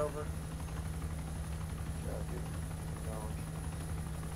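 Chinook helicopter flying in the Arma II video game, a steady droning rotor and engine hum with a constant whine on top, held at even loudness throughout, with faint talk in the background.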